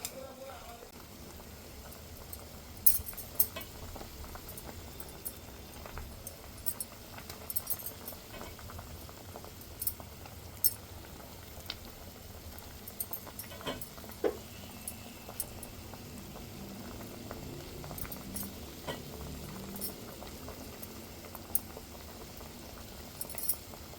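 Steady low bubbling of kadhi boiling in a pot with lentil dumplings on low heat, with scattered small pops and crackles throughout, fairly quiet and continuous.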